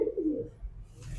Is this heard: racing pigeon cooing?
yes